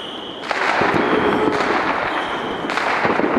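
Fireworks bang and crackle repeatedly at a New Year's party, a steady stream of loud pops and bursts with sharp blasts at intervals, fairly close.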